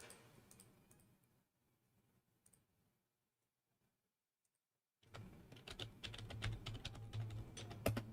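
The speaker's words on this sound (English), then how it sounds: "typing in that password" Clicky computer keyboard keys typed in quick, uneven bursts while a password is entered, with a pause of near silence in the middle before a louder, denser run of keystrokes.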